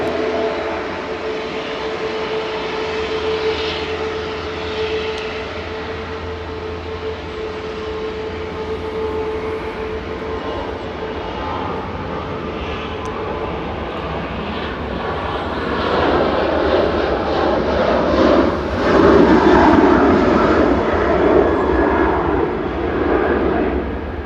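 An airplane departs from Manchester Airport with a sustained, rumbling jet roar that swells noticeably louder toward the end as it passes nearby.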